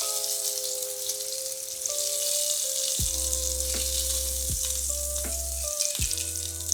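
A pork chop sizzles in a frying pan with a loud, continuous close hiss, broken by a few dull knocks of the pan.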